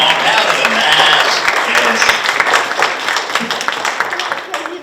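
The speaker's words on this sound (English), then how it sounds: "Let's give her a round of applause." Audience at a science and art event giving a round of applause, a loud, dense burst of clapping that slowly thins out over a few seconds.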